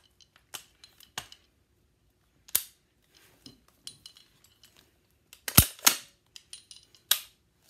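WE Tech M4 gas blowback airsoft rifle fired indoors in short bursts: sharp snapping shots scattered across the clip, with a loud cluster of several rapid cracks near the end and light mechanical clicks between them.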